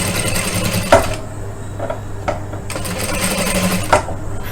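A sewing machine stitching a blouse, running with a steady low mechanical hum and a few sharper clicks and bursts as the presser foot is lifted and the fabric turned, fairly close and with no talking.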